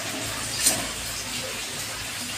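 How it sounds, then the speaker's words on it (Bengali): Fried bhola fish go into a boiling curry gravy, giving a steady watery bubbling and hiss with one brief splash as the pieces land. "এবারে আমি ভেজে রাখা মাছগুলো দিয়ে দেবো।"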